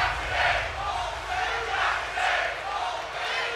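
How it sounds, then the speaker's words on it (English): Wrestling crowd in WWE 2K24 chanting in steady rhythmic swells, a loud, dense mass of voices rising and falling about every second and a half, continuous throughout. "The crowd chanting all day"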